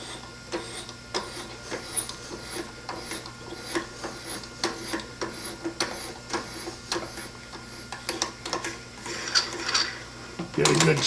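A bottoming hand tap cuts threads dry into a Bendix master cylinder, giving steady rhythmic metallic clicks and scraping strokes close up, with a louder clatter at the end.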